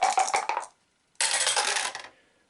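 Two dice rattle and clatter onto a table during an Eldritch Horror board game: a short burst of rolling clicks, a brief pause, then a second longer clatter, close and sharp with no voices.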